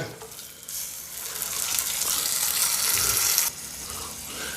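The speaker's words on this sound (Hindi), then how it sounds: "ये 1/4 किलो टमाटर को हमने बारीक टुकड़ों में कट कर लिया है। अब ये डाल देंगे।" Finely chopped tomatoes, a quarter kilo, drop into a hot pan with kasuri methi, bursting into a loud sudden sizzle that holds for a few seconds, then drops abruptly to a softer simmer, with no talking.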